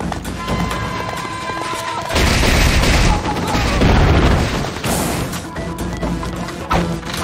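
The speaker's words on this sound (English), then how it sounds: "Cannon fire? That seems a little excessive." Cannon fire and battlefield crashes in the Samurai Warriors 3 video game at the Battle of Kizugawa, loud booms and smashing impacts over dense continuous battle noise.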